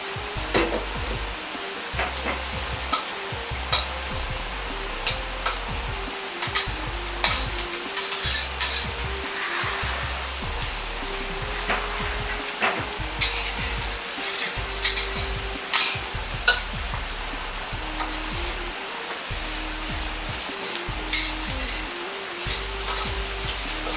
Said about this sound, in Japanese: 鍋を揺らしながら均等に熱が伝わるようにして焼いていきます。